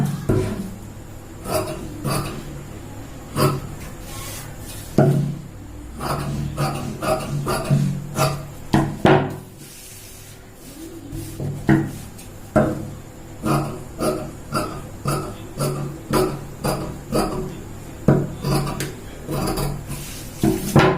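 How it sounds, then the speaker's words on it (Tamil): Scissors cutting the back piece of a size 32 blouse fabric, a series of crisp snips and fabric crunches coming in irregular bursts, close and fairly loud, with a short pause midway and no talk. "இப்போ நம்ம வந்து பேக்கை கட் பண்ணி எடுத்துடலாம்."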